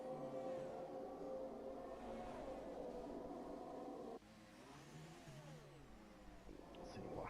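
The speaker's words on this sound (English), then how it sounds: "Listen to that engine as they go through the Monaco tunnel, one of the famous parts of this track." Race car engines howl through the Monaco tunnel in a racing video game, a sustained high whine that shifts pitch as cars pass, heard faintly and alone without talk.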